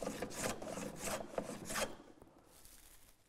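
Hand plane shaving a wooden door part in a few quick rasping strokes, each a crisp swish of the blade cutting thin shavings, fairly close and moderately loud, with the last second fading to quiet.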